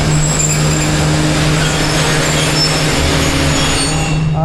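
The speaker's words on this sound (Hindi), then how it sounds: "हाय हाय हाय, क्या आवाज़ आई है जी ब्रेक की।" The Rehman Baba Express grinds to a halt at Jhelum station, with loud, continuous squealing brakes and rail noise over a steady low rumble.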